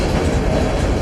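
Steady, loud rumble of a train running on rails en route to Skagway in Alaska, a continuous close roar with faint rhythmic clatter and no voices.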